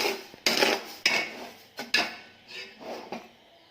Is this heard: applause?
no